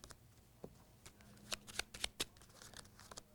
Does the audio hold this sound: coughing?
no